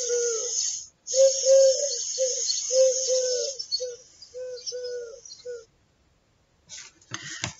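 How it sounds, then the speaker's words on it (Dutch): Pigeon or dove cooing repeatedly in a steady series of soft, low, rounded calls, fairly close, with high bird chirps and background chatter above and a brief pause near the end. "Dit geluid herken je gelijk. Roekoe, roekoe. Dit is een duif."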